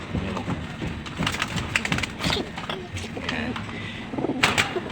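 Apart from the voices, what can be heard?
racing pigeon cooing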